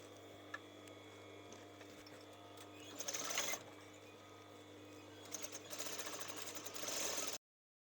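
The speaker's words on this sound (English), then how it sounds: "So I'm flipping this over and I'm going to do the twin stitch again." Sewing machine running a twin stitch on soft striped knit fabric for a baseball top, a faint steady mechanical whir with two louder bursts of stitching, no talking.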